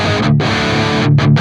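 Heavily distorted electric guitar through an Archetype Gojira X amp with the master at noon, playing sustained thick chords in two bursts separated by a brief gap, loud and close with no talking.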